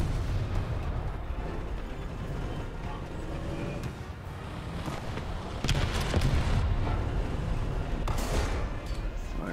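Bomb explosion in the War Thunder tank game, with heavy booming blasts and rumbling artillery-like noise filling a dense, continuous battle din.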